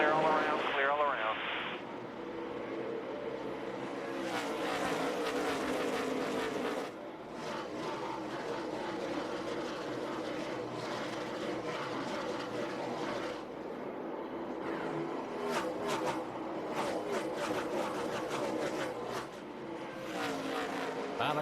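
NASCAR Busch Series stock cars racing at Bristol in 2007, a steady loud roar of engines passing close by, with commentators talking over it throughout.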